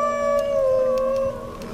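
A dog howls in Skyrim Special Edition, one long sustained wavering howl that holds steady and then drops off near the end, loud and close with no talking.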